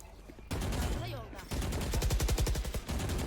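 Rapid bursts of gunfire from the video game Valorant during a VCT 2022 esports match, loud repeated shots and volleys with a brief lull midway, under excited commentary.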